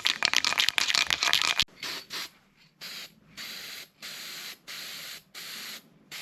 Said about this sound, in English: Try to spray it a little wider so it doesn't just make a mountain of paint.